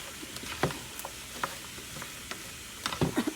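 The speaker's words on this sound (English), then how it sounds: "I'm gonna stir this up real good." Stewed okra, tomatoes and onions are stirred in a pan, with irregular scraping and clacking of a spoon against the pan over a faint sizzle, growing busier toward the end.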